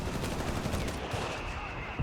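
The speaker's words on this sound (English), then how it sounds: "Using the Greyhound there, of course, to capture points." Gunfire in the strategy video game Company of Heroes 3, a dense crackle of rapid automatic bursts over rumbling battle noise, continuous and fairly loud throughout.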